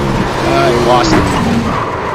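A race car loses control and skids on the Bristol Speedway short track in the iRacing sim, a brief loud tire squeal and engine roar lasting about two seconds under steady engine noise, with a voice talking over it.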